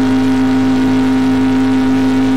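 A modded Camaro GT car in the survival video game Green Hell gives off a loud, steady, unchanging engine hum with a strong low drone and no talk over it.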